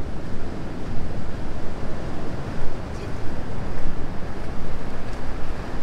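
Surf rolls steadily onto Pangasan Beach in Pacitan, East Java, a loud continuous wash of breaking waves with some wind buffeting the microphone.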